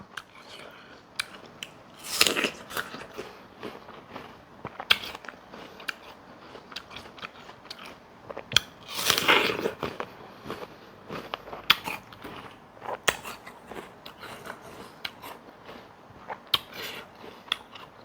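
Crisp apple dipped in sweet shrimp paste being bitten and chewed close to the mic, with sharp crunchy bites around 2 and 9 seconds followed by scattered wet chewing clicks, mostly without talk.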